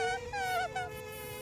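High-pitched lip buzz on a horn mouthpiece, a thin mosquito-like whine in short wavering bursts, fairly faint and heard alone.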